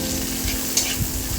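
Chopped green chili dropped into hot oil for a flattened rice pilaf, a brief, dense crackling sizzle with a light clink, close and fairly loud.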